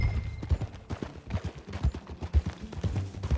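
Horse hooves clip-clop at a steady riding gait in Red Dead Redemption 2, an irregular run of close, fairly soft thuds with no talking over them.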